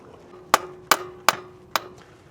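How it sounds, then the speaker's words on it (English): Four sharp, evenly spaced dead blow hammer taps seating a CV axle on an Acura RDX, each a crisp close strike on metal with a brief ringing tail. "apply some force or tap this on with a dead blow hammer, just so it seats properly."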